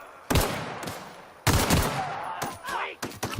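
Pistol shots ring out in a video game: two sharp, loud bangs about a second apart, then a quieter cluster of quick pops near the end, with no talking.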